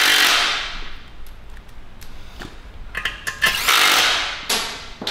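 Power tool bursts drive side screws into an Audi S4 engine block in an engine machine shop, a few short whirring runs with clicks and pauses between them, close and fairly loud.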